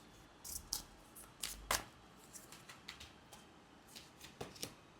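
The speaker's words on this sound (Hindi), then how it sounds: "let me pull out 2 more cards for you" Tarot cards shuffled and pulled from the deck during a reading, a few quiet brushes and snaps of card stock, close and soft.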